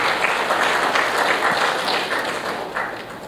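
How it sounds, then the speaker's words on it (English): Dense, sustained audience applause fills a conference hall at the Air Cargo India 2016 event, steady and loud throughout with no voices over it. "Let's have a round of applause for Mr. M. Thakur, the Joint Director General Foreign Trade, Government of India."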